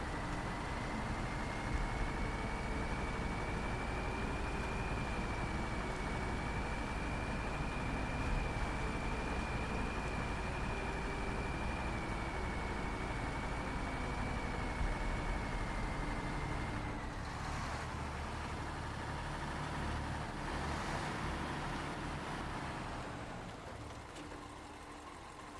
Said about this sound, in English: the turbo sound's pretty good